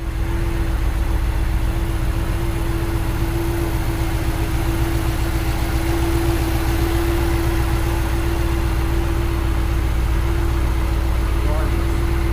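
A Mercedes diesel engine with a C.I.S. fuel system idles steadily up close, a low, even rumble with a constant hum running unbroken from start to finish.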